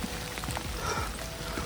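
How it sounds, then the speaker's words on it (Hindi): Rain falls steadily in the Himachal hills near bushes, a soft, dense patter of drops with no voices, quiet and continuous. "बारिश थोड़ी सी और तेज़ हो चुकी है"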